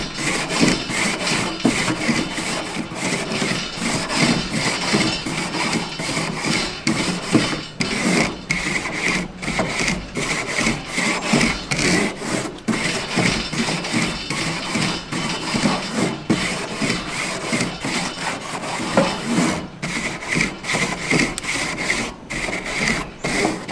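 A brush scrubs hot charcoal grill grates clean, rasping loudly and continuously in quick back-and-forth strokes, close up, with no talk.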